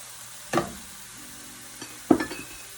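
Fresh oregano cooks in olive oil in a pan, with two short sizzling bursts as it is stirred, separated by a quieter stretch.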